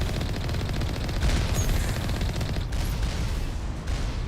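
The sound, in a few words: turrets shooting in Mass Effect video game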